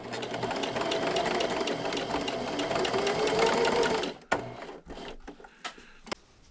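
A sewing machine runs a seam on a self-binding napkin for about four seconds, a close steady whir with rising pitch, then stops for a backstitch, leaving scattered clicks and knocks.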